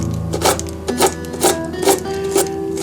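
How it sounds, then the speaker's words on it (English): A shear foam rasp filed diagonally and horizontally across foam scenery for a model train coal mine scene: close, rhythmic scraping strokes, about five or six in quick succession. "So I take my shear foam rasp and just kind of go"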